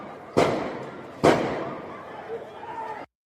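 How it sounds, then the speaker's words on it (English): Gunfire as the IRGC opens fire on protesters in Karaj, Iran: two sharp, loud reports about a second apart, each followed by a decaying echo, with faint background noise and a murmur of voices afterward. "Apparently, IRGC is opening fire on protests in Karaj"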